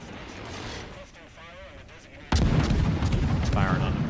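Naval guns firing on the battleship Musashi in a naval video game: a sudden heavy boom breaks in midway and rolls on into a sustained rumble, after quieter battle noise and a voice talking.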